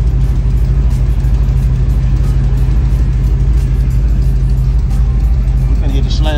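An old-school wagon car on 30-inch wheels, with a carburetor, runs on the highway, its engine giving a loud, steady low rumble with rising revs near the end.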